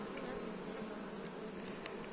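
Honeybees hum in a dense, steady swarm drone around hives after the main sunflower flow, loud and close, with occasional individual bees buzzing past, no talking.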